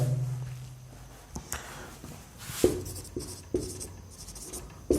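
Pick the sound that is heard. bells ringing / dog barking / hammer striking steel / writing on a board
writing on a board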